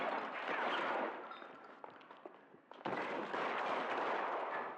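Dense, sustained bursts of video game gunfire fill the clip, loud and continuous for about a second, dropping off briefly, then resuming at full intensity after a short lull.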